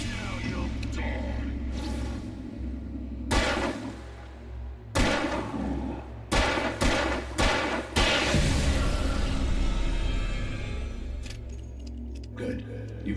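Gunshots in the Alan Wake video game, several sharp separate blasts spaced irregularly through the clip, some in quick clusters, under a low rumbling background with a voice speaking.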